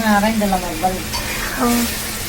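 Food sizzles and is stirred in a wok, a steady frying hiss with scraping strokes, while a voice talks over the cooking close by.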